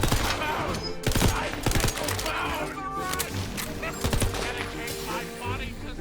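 Gunfire in the Tiny Tina's Wonderlands shooter game: repeated sharp shots and bursts, some in rapid fusillades, crackling over background game sound effects.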